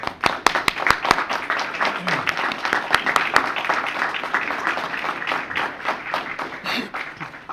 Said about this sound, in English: give a round of applause and recognition and thanks to the members of our search committee